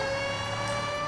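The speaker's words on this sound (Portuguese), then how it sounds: "Vamos esperar essa sirene parar, galera." Siren wailing in Grand Theft Auto V as steady, sustained tones, loud and continuous throughout with no voices over it.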